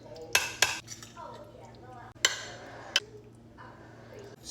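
Cutlery and dishes clink while plating microwave dinners of barbecue meatballs and macaroni and cheese, several sharp metallic taps and clatters spaced apart over a quiet background hum.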